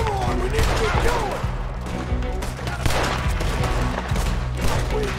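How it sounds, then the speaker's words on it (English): Shooting at enemies in Red Dead Redemption 2, with steady gunfire and shot impacts running under a game soundtrack and a person talking throughout. "Oh, I guess I gotta shoot these guys now, huh?"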